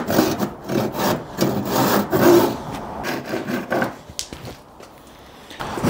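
Handsaw cutting triangular joinery sockets in B&Q timber, a run of close rasping strokes in an irregular rhythm that thins out toward the end, heard alone without talk.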